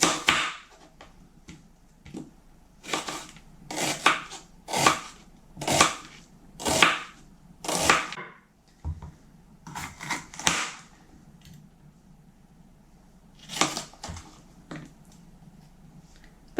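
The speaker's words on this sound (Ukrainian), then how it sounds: "Нарізаємо цибулю напівкільцями." A knife slices an onion into half-rings on a cutting board in a series of crisp, close slicing strokes, some quick in succession, with pauses between.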